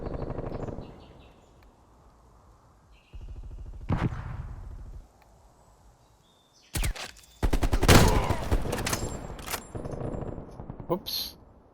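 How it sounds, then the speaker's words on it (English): Sniper rifle shots in a video game, a few sharp loud cracks with silent gaps between them and voice talk underneath in places. "This sniper rifle has a ridiculous recoil."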